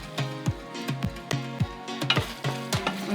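A spoon stirs chicken pasta with melting parmesan in a hot pan, giving a steady rhythm of scraping strokes about every half second over a continuous low sizzle, close and alone with no talking.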